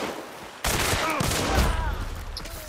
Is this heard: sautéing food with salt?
no